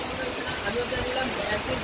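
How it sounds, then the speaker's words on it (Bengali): Heavy rain pours steadily on the bank of the Ganges as a dense, even hiss, with no breaks over the short stretch. "প্রচুর বৃষ্টি হচ্ছে"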